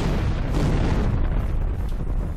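Loud, dense explosive rumble from bomb blade strikes in the Roblox game Shindo Life, up close, a sustained booming roar with no pauses across the whole moment.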